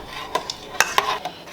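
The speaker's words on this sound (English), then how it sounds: "Keep stirring every now and then so nothing sticks or burns." Spoon knocking and scraping in a pot of boiling tomato puree, a few sharp metallic taps and stirs in an irregular rhythm, close and without talk.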